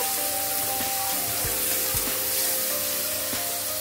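Ginger-garlic paste hits hot oil in a cooking pan while dum aloo is being made, giving a steady close sizzle and crackle with a few soft stirring knocks.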